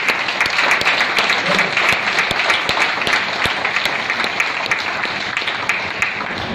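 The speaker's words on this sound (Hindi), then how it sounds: "विनोद वालिया जी, जोरदार तालियां वालिया जी के लिए।" A seminar crowd gives strong, sustained applause in a hall, an even wash of clapping throughout, with occasional voices underneath.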